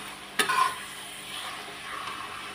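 Coriander powder and garam masala roasting in a pan for an aloo dum curry: a sharp spoon scrape against the pan, then a low, steady sizzle heard up close with no voices.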